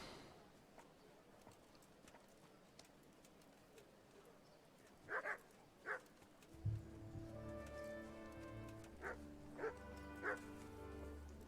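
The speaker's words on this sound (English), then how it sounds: "The dogs are barking." Dogs bark in the medieval video game Kingdom Come: Deliverance, a few distant woofs over quiet ambience and then a louder close bout of barking and yips over a low droning background.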